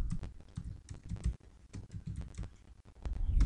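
Steady typing on a computer keyboard while a short program is written in Notepad: irregular bursts of close, crisp key clicks with brief pauses between, no voices.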